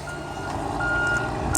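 A big container-handling forklift that moves 40-foot shipping containers sounds repeated reversing beeps over a low engine rumble, close and fairly loud, with no talk.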